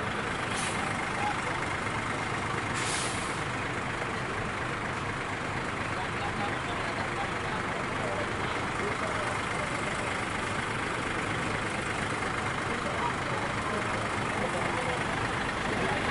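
A tour bus engine idles at a bus terminal with a steady low rumble, broad and continuous, with a couple of brief hissing bursts near the start.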